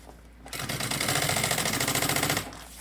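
A domestic sewing machine runs a quick burst of rapid, even stitching along the edge of a backpack lining, starting abruptly, clattering steadily for about two seconds close by, then stopping.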